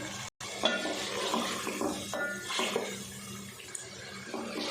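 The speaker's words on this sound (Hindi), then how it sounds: "और अब डाल देंगे इसमें दही 3 से 4 टेबलस्पून अच्छे से फेंट के" Three to four tablespoons of whisked yogurt go into chicken masala in a pan over low heat for a gobi chicken salan, with a steady close sizzle and wet stirring that runs unbroken throughout.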